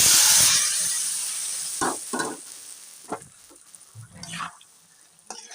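Mixed vegetables for a Bengali spinach pelka sizzle sharply as they drop into hot spiced tempering oil. The hiss bursts loud at first, then fades, broken by a few short stirring scrapes near the pan.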